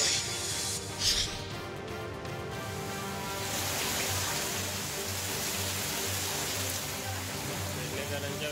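Heavy monsoon rain in Mumbai with rainwater rushing through the streets, a dense, steady hiss of falling and flowing water throughout, with a brief louder splash near the start.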